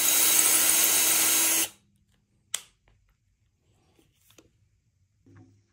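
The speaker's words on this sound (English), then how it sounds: "I'm going to drill a new one for the top." A loud, steady power drill whirs continuously for about a second and a half, drilling a hole in a DW Edge snare drum, then stops abruptly, followed by a sharp knock and a few faint clicks.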